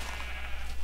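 A sheep in the Minecraft video game gives a single short wavering bleat, clear and fairly close, over a low background hum.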